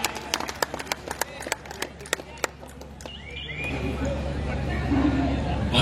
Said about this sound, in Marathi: प्रचंड टाळ्यांचा कडकडाट करूया.